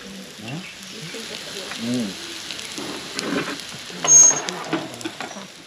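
A steady sizzle of four pieces of seer fish frying in oil, with faint spattering and occasional scraping, as a voice talks softly over it.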